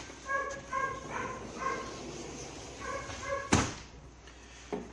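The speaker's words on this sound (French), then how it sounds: "il y a un chien qui n'arrête pas d'aboyer" A dog barks again and again in short bursts of two or three barks, moderately distant, with a single sharp thud partway through.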